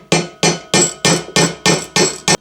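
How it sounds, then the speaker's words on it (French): A hammer taps a greased part into an OM603 diesel cylinder head with seven sharp, evenly spaced metallic strikes. The blows are close and loud, with no voices. "Avec un marteau."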